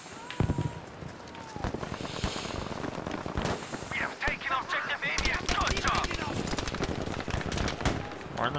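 Gunfire in the shooter Battlefield V: rapid, dense bursts of automatic fire and scattered single shots in a chaotic battle, under a player's frequent talking.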